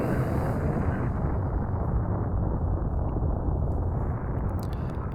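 Explosion in Super Metroid during an SMZ3 randomizer run: a dense, continuous rumbling roar that stays loud and steady for the whole stretch, with no breaks.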